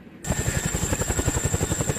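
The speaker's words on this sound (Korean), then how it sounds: "드디어 고공 강화를 위한 헬기 시누크가 착륙하는데," Chinook military helicopter landing for a high-altitude jump exercise, its twin rotors thudding in a fast, steady chop right up close after a sharp onset, loud and constant.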